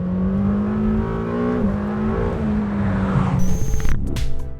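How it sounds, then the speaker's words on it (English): A Lamborghini Temerario prototype's 4-litre hot-V V8 roars loud and close at high revs to 8,500 rpm, pitch climbing then dipping, ending with a sharp burst of crackling and popping. "Basically, it revs like a superbike."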